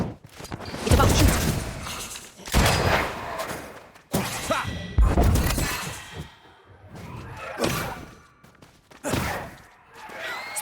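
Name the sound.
enemy shooting in video game Banishers: Ghosts of New Eden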